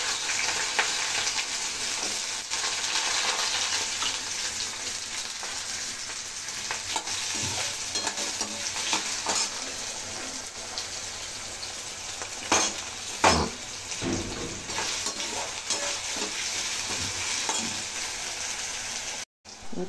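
Potato pieces frying in a hot pan, a steady sizzle under repeated stirring scrapes and occasional utensil knocks, close and continuous for the whole stretch.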